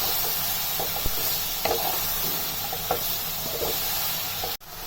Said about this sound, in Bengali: তেল দিয়ে দিলাম, পাতাকপিগুলোকে দিয়ে দিচ্ছি